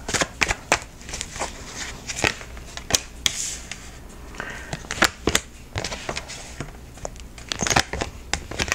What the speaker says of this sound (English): I'm going to pull 3 cards and see what intuitively I have for this week